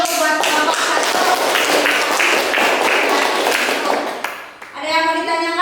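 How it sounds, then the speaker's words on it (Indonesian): Students in a classroom at Universitas Mataram, Indonesia, clap for a presenting group, a dense burst of hand claps for about four seconds, close and loud, fading before a voice speaks. "tepuk tangan dulu buat kelompok 1."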